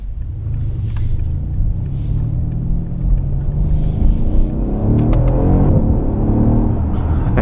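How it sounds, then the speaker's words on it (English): A 2016 Mercedes-Maybach S600 engine rumbles steadily as the car drives, with brief throttle blips and revs rising during downshifts, heard close and fairly loud without talk. "You get nice throttle blips on downshifts."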